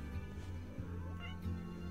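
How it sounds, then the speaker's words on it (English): A cat that has just woken up gives a couple of faint, short meows, heard softly in the background over a steady low hum of room or game noise. "if you hear meowing, my cat just woke up"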